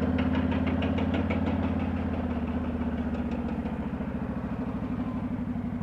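Honda VTX 1300 motorcycle idling at close range, a deep, steady, loping engine throb with a rapid pulsing beat and no speech.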